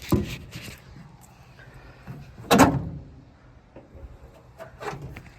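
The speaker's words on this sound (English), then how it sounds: "I'd like to open the door and see if we get power into the cab." The cab door of a 1947 International KB-7 truck is opened: a few clunks and rattles lead to one loud latch-and-swing thud in the middle, with more light knocks afterward.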